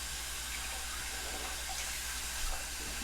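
Tap water running steadily into a sink while a makeup beauty blender sponge is rinsed, an even close hiss that continues without pause throughout.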